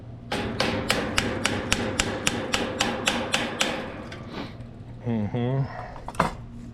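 A Husky hammer strikes repeatedly at a steady, quick rhythm while installing a used Howe ice flaker, about a dozen sharp metallic blows, then stops; a brief voice-like sound and one last knock follow.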